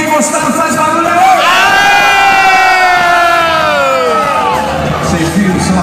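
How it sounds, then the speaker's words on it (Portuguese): A large crowd of men at a live show shouts, whoops and cheers loudly and continuously, a sustained roar of yelling voices close up. "Eu quero ouvir o grito dos homens que gostaram, faz barulho aí!"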